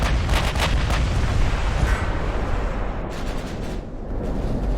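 Battleship 18-inch guns from the naval game Ultimate Admiral: Dreadnoughts fire in heavy rumbling booms, several salvos rolling together into a loud, continuous low roar with sharper reports layered on top.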